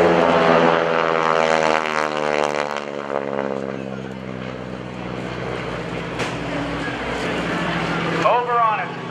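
Propeller airplane engine of an aerobatic plane making a low pass at a naval air station airshow, a loud steady drone that fades as the aircraft moves away and then swells back, with talk over it.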